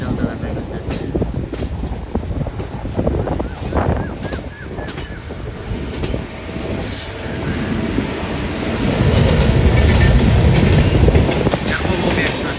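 The Puri–Tirupati Express rolls along with a loud, steady rumble of wheels on rails, metallic clatter and squeal. The noise builds toward the end, and muffled voices can be heard underneath.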